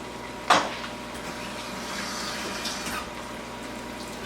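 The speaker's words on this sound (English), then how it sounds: "Then we're going to add the cornstarch and the water to it." Cornstarch and water poured into a pan of hoisin-based General Tso's chicken sauce, a brief splash followed by a steady faint bubbling and trickle, no voices.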